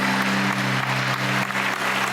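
Studio audience on a Pakistani television game show bursts into steady, loud applause, a thick continuous clatter of many hands with a faint low hum underneath, lasting about two seconds without speech.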